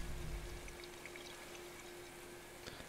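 In a video game, water gushes during a helitanker's water extraction over a wildfire zone, a steady, rushing pour with a low mechanical hum beneath and no voices.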